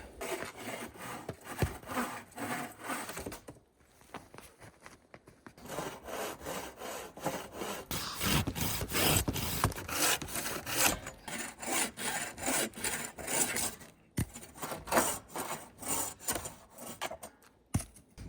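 A handsaw cuts through wood while building a small roof frame for a porcupine shelter, with rhythmic back-and-forth strokes that are close and fairly quiet, pausing briefly midway before resuming.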